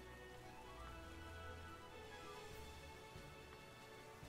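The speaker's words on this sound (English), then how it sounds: "It's raining too." Rain falls steadily in the video game Pokemon Scarlet and Violet, a soft, even hiss of drops with faint low ambience underneath, quiet and uninterrupted with no voices.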